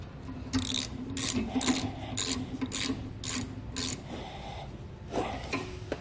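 A 7/16 inch socket wrench tightens nuts onto carriage bolts while a B and W Patriot 5th wheel trailer hitch is installed, giving a quick series of close, raspy ratcheting bursts followed by a few quieter clicks.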